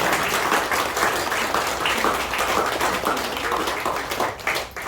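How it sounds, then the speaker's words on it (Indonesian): A crowd claps together in dense, continuous applause that carries on for several seconds before thinning out at the end. "Ya, yang punya tangan, tepuk tangan."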